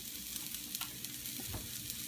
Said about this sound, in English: Searing it on medium heat.